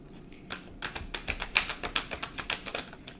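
Playing cards being shuffled, a rapid run of crisp clicking riffles that builds after a brief pause and keeps up a quick, even patter, close and fairly quiet.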